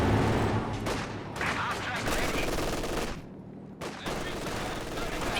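MG42 machine gun fire in Company of Heroes, continuous rapid bursts mixed with other battle noise, dropping briefly before resuming, under a commentator's talk.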